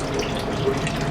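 Water running from a hose to thaw a frozen water line, a steady close rushing and splashing flow across the short stretch with no voices.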